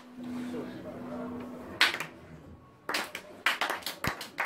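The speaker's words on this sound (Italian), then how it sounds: "Applauso con pathos ha un'accelerazione dinamica, parte lento, diventa veloce" A group claps in a slow-to-fast applause with pathos: a few scattered hand claps give way to quicker, denser bursts that build toward the end, over a faint background murmur.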